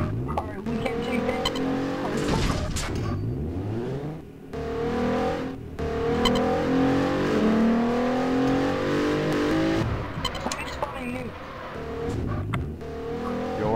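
A race car in a video game engine revs and accelerates loudly, with tire squeals and skids, pitch sweeping up and down through shifts and a brief lull midway.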